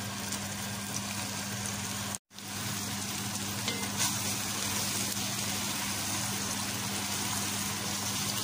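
Chicken pieces brown in a pot for kabsa, a loud, steady, dense sizzle of frying that runs throughout with only a brief cut near the start, no voices.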